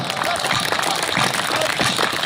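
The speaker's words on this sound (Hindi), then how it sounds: "पूरा चित्तौड़ तालियां उठाकर बताए।" An audience claps at a Hindi poetry gathering (kavi sammelan) organised by Jauhar Smriti Sansthan. Dense, steady applause fills the whole moment, loud and close, with crowd voices murmuring beneath it.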